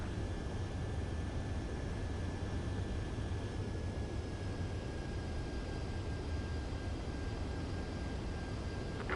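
A fighter jet in Ace Combat 7 drones steadily on its approach to a runway, with a continuous broad engine roar and a faint high whine holding throughout.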